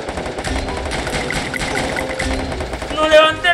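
Rapid bursts of automatic gunfire in a shooter video game, loud and close, with a voice talking over parts of it.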